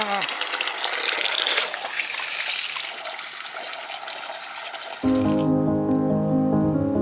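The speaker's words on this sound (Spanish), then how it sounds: "Aquí en Taboada hay una estupenda fuente para saciar la sed producida por el esfuerzo." Water gushes steadily from a roadside drinking fountain in Taboada on a rural Camino de Santiago route in Galicia, a loud, continuous splashing close by that is joined by music partway through.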